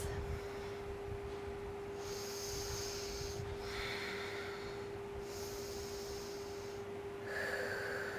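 Slow, deep breaths drawn in and let out during a yoga balance flow form about three long airy cycles, close and soft, with a faint steady hum beneath.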